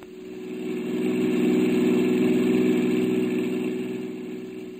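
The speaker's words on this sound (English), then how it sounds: "Dawson and I drove with the two men over to the Court Theater." A car engine driving as a radio drama sound effect, a steady mid-pitched hum that swells and fades over a few seconds, alone with no voices.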